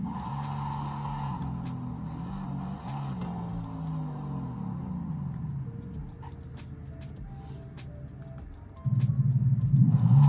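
Racing car engines from Forza Horizon 5 hum and rumble steadily at close range, with faint ticking and tyre noise, and a louder engine drone rises near the end.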